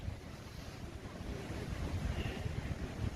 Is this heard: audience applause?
no